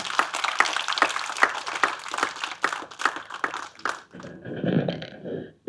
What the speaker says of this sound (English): Let's have a big round of applause for Dr. Anjali.